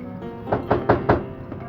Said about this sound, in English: Just then, they heard another knock at the door.